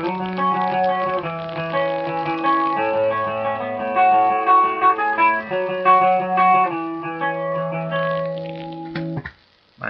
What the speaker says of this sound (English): This is what the nano clone sounds like.